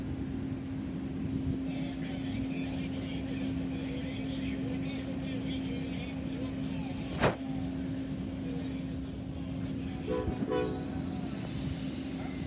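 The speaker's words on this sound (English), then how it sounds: "Amtrak 19, leaving Toccoa." Amtrak train 19, a passenger service, pulls out of Toccoa with a steady rumbling rail roar and a sustained low tone, a brief sharp burst near the middle and some clattering toward the end, heard from trackside.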